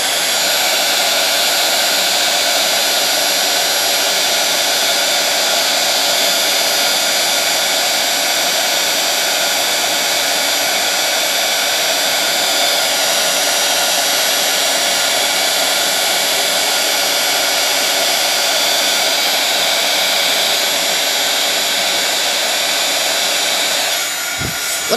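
Hair dryer blowing on glue on a paper flower, a loud, continuous, close rushing whir that holds steady throughout and cuts off abruptly at the very end.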